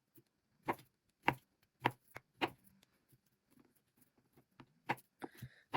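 Knife chopping sausage on a cutting board, with about six distinct, close, crisp cuts at a slow uneven pace, followed by a few quicker, softer taps in an otherwise quiet room.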